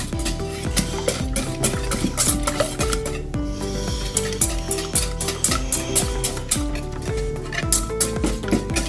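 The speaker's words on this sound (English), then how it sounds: "Just keep stirring as best as you can." Eggs stirred in a hot pan with melting butter for an omelette, a utensil scraping and clinking against the pan in quick repeated strokes over a steady sizzle, close and continuous.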